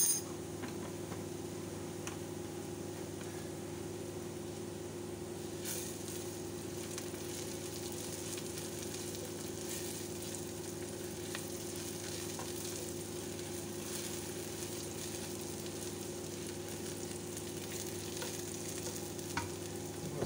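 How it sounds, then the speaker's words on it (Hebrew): Onions caramelizing with brown sugar in a frying pan, a low steady sizzle with occasional light scrapes and clicks of stirring, close and continuous. "אחר שהסוכר החל להשחים אני מוסיף לו כפית שטוחה סוכר חום ומערבב"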